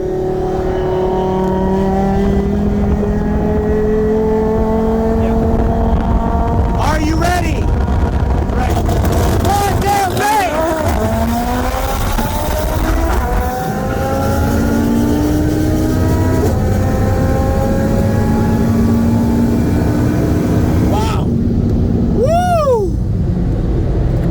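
A 2018 Audi TTRS with an IMS850 turbo kit running E85 accelerates hard in a roll race from 50 mph against a Tesla Model S Plaid, with a loud, close engine note rising in pitch through several gear shifts.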